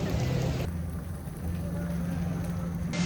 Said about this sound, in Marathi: आता धुवाधार पाऊस आहे.